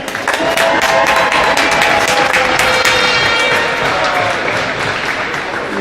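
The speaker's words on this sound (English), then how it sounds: "Please give a round of applause for Sam" Sustained crowd applause with cheering fills an arena for a college men's Division I hockey senior night against Duquesne, loud and steady throughout, with scattered voices rising above the dense clapping.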